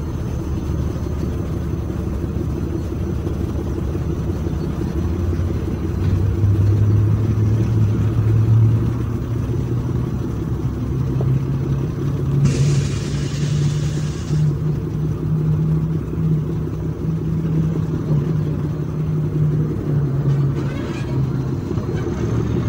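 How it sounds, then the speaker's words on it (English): A North British diesel hydraulic shunter locomotive labours up a steep gradient out of Foxfield, a loud, steady low engine drone with rising and falling throb, heard close and continuous, with a brief hissing burst midway. "The gradient out of Foxfield through the fields is the steepest on any preserved line, and even the diesel has to work hard."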